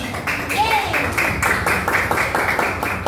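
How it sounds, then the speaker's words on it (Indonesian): A small group clapping in a classroom coaching session, a quick run of sharp, evenly spaced claps for about three seconds, with a voice briefly over the top. "Oke, tepuk tangan buat kita semua."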